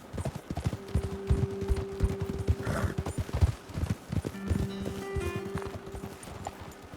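Horses' hooves clip-clop at a walking pace on a road in a video game, rhythmic and close, with a few neighs and a sustained musical tone in the background; no talking.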